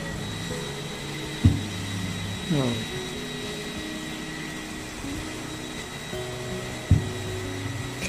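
Aqua single-tub 9 kg washing machine running through its cycle, a steady mechanical hum with occasional thumps and a whining pitch sweep, while a person talks intermittently nearby.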